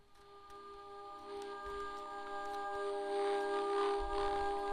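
Buddha Machine, a small battery-powered ambient loop player, plays a low-fi generative drone through its tiny speaker, with steady sustained tones that swell slightly louder over the span, heard through a microphone with no talking.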